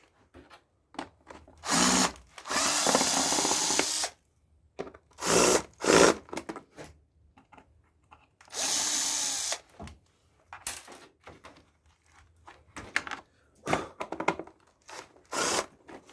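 Power drill backing screws out of a floor vacuum during disassembly, several short loud whirring bursts of a second or two separated by pauses and small handling clatter.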